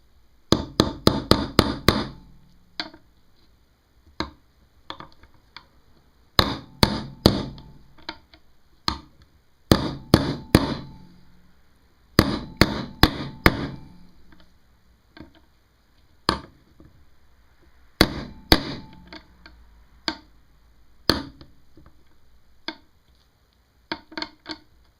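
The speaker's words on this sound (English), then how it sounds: "I'll drive my new oil seal in using a 15mm socket." A new oil seal is hammered into the alternator cover of a 1985 Kawasaki VN750 engine using a 15mm socket, with bursts of rapid sharp metallic taps and single blows spread over about twenty-five seconds, loud and close.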